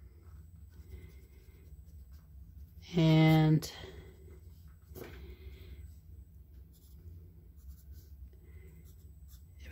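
An H-grade pencil works on paper while a portrait is blocked in: faint, dry scratching strokes with one brief louder scrape, and a voice briefly speaking nearby.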